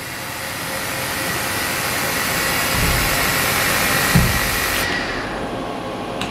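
A Fadal 4020HT CNC machine spindle running at 3,000 RPM makes a steady loud whirring drone close by, with a couple of low thumps and the high hiss dropping off near the end, with no talking.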